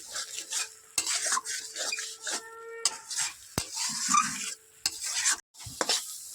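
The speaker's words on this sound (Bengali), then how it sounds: "প্রায় হয়ে এসেছে, আর একটু নাড়াচাড়া দেবো।" Spatula scraping and stirring lotte (Bombay duck) fish jhuri in a pan as it dries out, with a steady close sizzle and repeated sharp clinks of metal against the pan, no voices.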